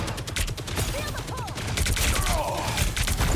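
Rapid bursts of gunfire from the Marvel Rivals video game rattle in quick volleys under a game mix, with brief whooshing ability effects and faint voices in the background.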